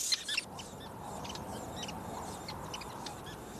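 Sociable weaver birds chatter at a large communal nest in a camel thorn tree in the Kgalagadi, many faint high chirps scattered over a steady low background hiss, distant and continuous.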